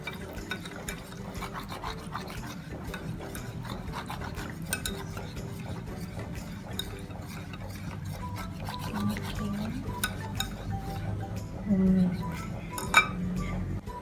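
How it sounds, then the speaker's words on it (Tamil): A thick ghee Mysore pak mixture being stirred slowly in a pan, giving a steady rasping scrape of spoon against metal with a few light clinks near the end, close and continuous. "இது வந்து இப்படி மெதுவாக கலக்கணும்"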